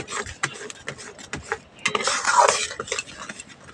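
Green food colouring is stirred into a raw mango mixture for tangy-sweet aamsotto, a spoon scraping and clinking against the bowl in uneven near strokes that swell into a denser burst midway.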